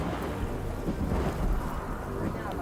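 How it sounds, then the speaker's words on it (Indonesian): Thunder rolling through a storm with wind and rain, a continuous low rumble at steady volume, dense and noisy throughout. "petir terus menggelegar dan menyambar-nyambar"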